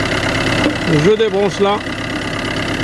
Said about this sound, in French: Comme vous voyez là, le moteur il tourne.